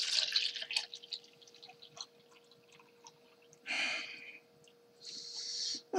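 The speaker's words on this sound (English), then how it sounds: "I'm going to pour me a glass of milk with these cookies" Milk poured into a glass, heard as two short, close, gurgling splashes separated by quiet room sound, fairly soft overall.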